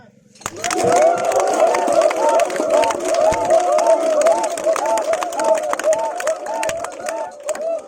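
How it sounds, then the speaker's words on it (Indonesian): A crowd breaks into sustained applause, dense clapping starting suddenly and continuing steadily, fairly loud and close, with scattered voices mixed in. "Tepuk tangan."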